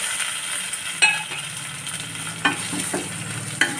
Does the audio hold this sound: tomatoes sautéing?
yes